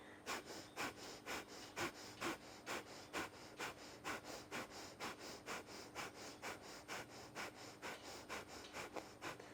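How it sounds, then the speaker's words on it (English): Forceful, rapid yogic breathing during a Shiva-inspired warrior flow yoga class: a steady train of sharp, close nasal exhalations repeating about three times per second with no talking. "And then inflating the belly, forcefully breathe in. Let's continue this breath for a few moments."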